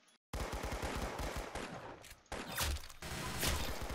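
Rapid automatic gunfire from a Roblox Arsenal match rattles out in dense bursts, loud and close, with a brief pause midway before the shooting resumes.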